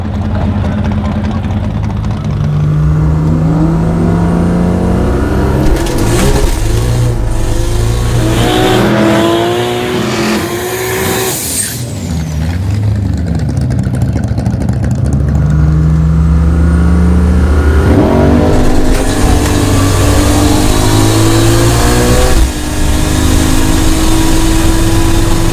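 A turbocharged Holden Calais drag car accelerates hard through the gears on a timed pass, loud and close, with the engine note rising and dropping at each shift.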